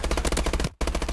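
Rapid bursts of automatic gunfire in Call of Duty: Advanced Warfare, loud and close, with a brief gap before the firing resumes at the same fast rhythm.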